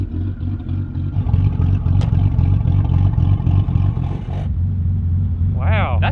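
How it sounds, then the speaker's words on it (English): Idling turbo SOHC Ford Fairlane engine rumbles steadily up close, with faint turbo whir and a sharp click partway through; a voice speaks briefly near the end. "You can hear the turbo."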